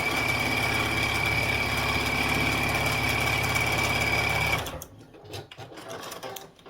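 A sewing machine stitches quilt seams with a fast, steady, close mechanical whir that runs continuously, then stops abruptly and is followed by soft fabric handling sounds.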